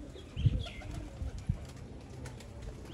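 Pigeons kept on a Sialkot rooftop coo softly in a few short, low calls against faint outdoor background noise.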